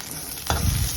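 Mustard seeds splutter in hot oil alongside curry leaves and a pinch of turmeric. Close frying hiss rises into a louder burst of crackling sizzle halfway through.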